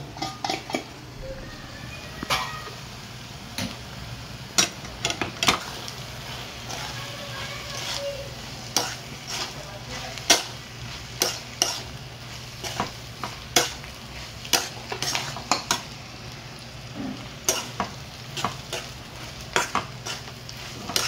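Bombil chutney with grated coconut frying in a pan, a low steady sizzle under repeated sharp clinks and scrapes of a spoon stirring against the metal, continuing at an uneven rhythm.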